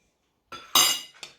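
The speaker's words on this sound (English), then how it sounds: "And keep stirring." A spoon clinks against a bowl while yeast is stirred into pizza dough, making two or three quick, bright knocks close by in an otherwise quiet moment.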